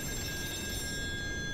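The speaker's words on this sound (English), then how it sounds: "That'll be the phone." Telephone ringing inside an offshore oil rig scene from the video game Still Wakes the Deep, a steady electronic ring with sustained high tones held over a low room hum, heard alone without talk.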